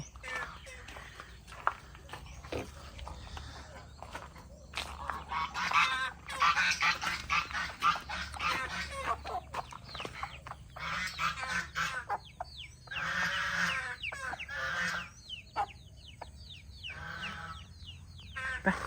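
Chickens cluck and squawk at morning feeding on a farm, with scattered bird calls overlapping through the stretch while someone talks nearby.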